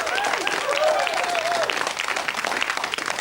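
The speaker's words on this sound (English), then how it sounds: "give them a nice round of applause" A studio audience on a 1994 talk show about funerals breaks into a brief round of applause; brisk, dense clapping at close range with a fleeting tonal sweep early on, tapering slightly toward the end.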